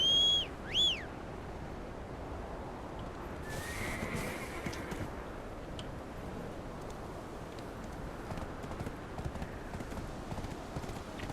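In the video game Black Desert, a horse whinnies twice at the start, then faint, steady clip-clopping hooves continue under a soft ambient game background.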